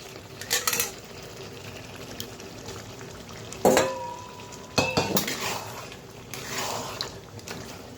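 Goat meat sizzling as it is fried in a pan, with a low steady frying hiss broken by several loud clanks and scrapes of a utensil stirring against the metal pan.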